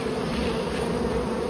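Dense, steady hum of many honey bees inside a beehive super of white-capped, nectar-filled frames, droning close and continuously without pause.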